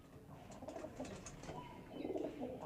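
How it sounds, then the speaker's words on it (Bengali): Pigeons, about fifteen in a small home pigeon loft including satin and Giribaz breeds, coo softly and repeatedly close by, low throaty calls overlapping in a quiet space, with faint chirps mixed in. "পনেরোটা কবুতর আছে আমার কাছে"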